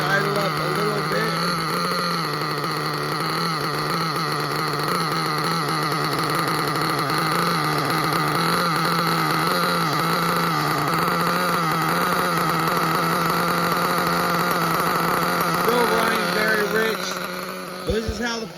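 Small engine idling during break-in, running rich with the idle turned up; a steady, loud drone with harmonic hum holds throughout, ending abruptly.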